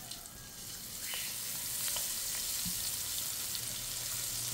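Garlic dropped into a hot pan, a steady close hiss of frying and sizzling that swells after the first second and holds through, with faint stirring clinks.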